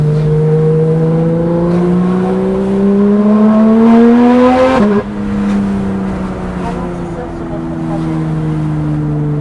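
Steady, loud exhaust drone of a Porsche GT3 RS engine held around 2500 rpm, its pitch rising slightly before a brief dip and settling again, close up, with people talking excitedly over it.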